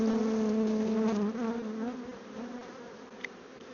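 Honey bees buzz steadily at an open hive during an inspection, a close, continuous drone that loosens slightly after the first second, with no talking.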